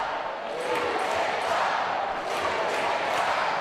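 Indoor soccer arena crowd at a MASL match between the Baltimore Blast and Utica City FC, a steady broad roar that swells slightly, with a commentator talking over it throughout.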